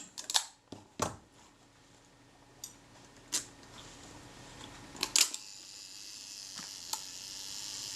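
Quiet whirring hum of a Retina Reflex III camera's self-timer mechanism running, punctuated by several sharp mechanical clicks, close by in a still room.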